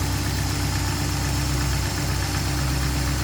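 A 1979 MG MGB convertible's 1.8-liter engine with a Weber carburetor idles under an open hood, a loud, steady, close rumble with an even low throb and no talking.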